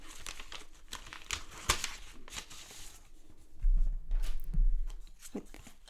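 A paper envelope from a monthly art-supply subscription box crinkles and crackles up close as it is handled and torn open, with soft rustling and a louder tearing burst near the end.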